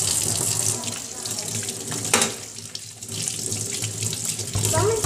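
Water runs steadily from a sink faucet, a continuous loud splashing rush that dips briefly midway and then resumes, with no speech over it.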